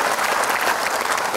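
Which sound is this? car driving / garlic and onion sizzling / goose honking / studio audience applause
studio audience applause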